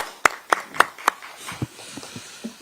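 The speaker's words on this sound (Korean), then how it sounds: "여러분 큰 박수로 맞이해 주시기 바랍니다" A few sharp claps from an audience welcoming a speaker at a Korean political party event, four distinct claps followed by softer scattered hand taps, fairly close and brief.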